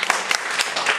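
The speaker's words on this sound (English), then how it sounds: "They clapped," A school audience claps for a Romeo and Juliet play, a second of quick, dense, close applause.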